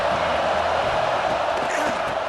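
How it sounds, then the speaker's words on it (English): Stadium crowd in a college football video game, a broad steady roar of many voices, fairly loud and continuous, with a commentator speaking over it. "This crowd ready to make its presence known."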